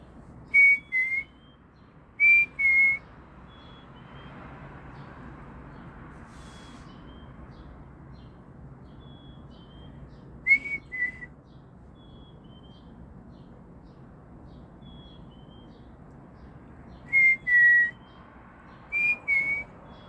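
Small birds sing on a quiet morning, sending short, clear whistled two-note calls in sparse bursts with long pauses between them, over a faint hushed background.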